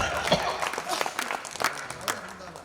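Applause for a poet at a Hindi kavi sammelan honouring Atal ji, scattered clapping from the audience, moderately loud and uneven, with a few sharper claps and faint voices underneath.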